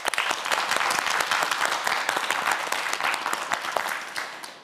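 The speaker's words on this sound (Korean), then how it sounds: "큰 박수 부탁드립니다" Studio audience on a televised Korean quiz show breaks into dense, sustained applause, many hands clapping at once in a loud, continuous wash.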